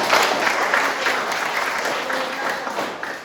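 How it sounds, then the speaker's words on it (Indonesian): Classroom applause from students and teacher together, a brisk dense burst of clapping that stays fairly even and slowly eases off. "tepuk tangan dulu untuk kita semua"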